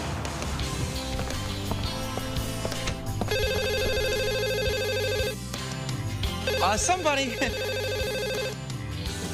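A telephone bell rings in repeated electronic bursts over a background music bed, with speech around it, on a live broadcast segment.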